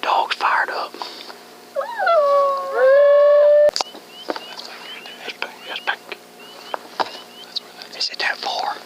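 A wavering, rising-and-falling howl, most likely a call used to draw coyotes, rings out loud and close for a couple of seconds in a wet outdoor setting, followed by rain patter and soft whispering.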